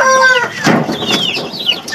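Burmese Aseel chicken at a fowl breeder's yard in Iloilo, giving a few short close clucks and throaty calls with a faint rustle, no talk over it.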